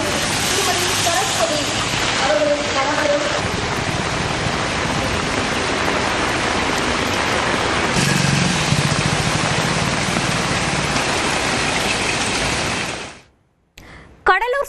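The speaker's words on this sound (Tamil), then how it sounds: "கடலூர் சுற்றுவட்டாரத்தில் கடந்த 1 மணி நேரத்திற்கு மேலாக மழை வெளுத்து வாங்கி வருகிறது" Heavy rain pours around Cuddalore, a dense, loud, steady roar of downpour with a faint engine-like rumble beneath, sustained for about thirteen seconds before cutting out abruptly.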